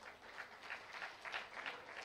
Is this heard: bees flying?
no